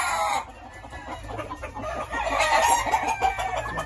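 A rooster crows and clucks close by, a loud throaty call with short repeated clucking bursts, heard alone without talk.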